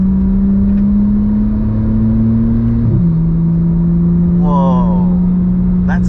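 Turbocharged 800hp Porsche GT3 Cup car engine while driving slowly on the street, a loud steady drone that shifts pitch midway, with brief speech near the end.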